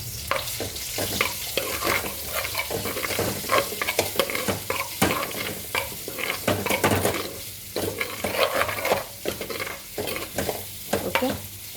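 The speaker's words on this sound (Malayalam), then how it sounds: "ഇളക്കി കൊടുക്കാം." Tamarind water is stirred into a fish curry in a pan: continuous close scraping and stirring over a bubbling sizzle, with small clinks of the utensil against the pan.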